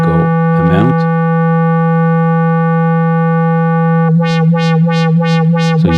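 A sustained synth tone in a retro 80s and 90s game style, first with a couple of short attacks, then a long steady held note, and finally a rhythmic wah-like pulsing as an LFO sweeps the filter cutoff up and down.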